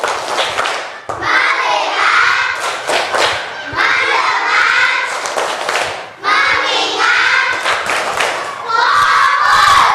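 A class of fourth-grade children clap a quick focus-clap rhythm with sharp, repeated claps, mixed with lively shouting and chanting from the crowd, in an elementary school classroom.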